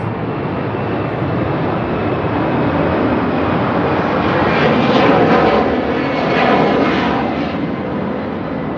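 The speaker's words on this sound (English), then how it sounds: "There's a plane going over my head." A fixed-wing airplane passes overhead, a steady broad engine roar that swells to its loudest around the middle and end, heard alone without any talk.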